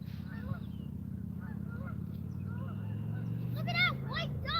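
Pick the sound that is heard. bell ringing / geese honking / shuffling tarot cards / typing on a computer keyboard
geese honking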